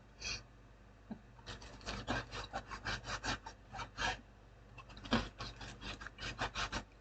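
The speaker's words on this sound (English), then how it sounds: "just cut it up into bite-sized pieces" Bread knife sawing leftover bread into bite-sized pieces, a run of short rasping strokes in quick rhythmic bursts, close and fairly soft, with no talking.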